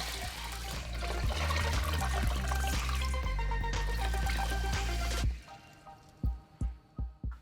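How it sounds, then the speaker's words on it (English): Water pours steadily into a large pot of washed lentils, a bright continuous splash that cuts off abruptly, followed by a few scattered drips and small knocks in quieter surroundings. "Place in a large pot and pour 12 cups of water over them."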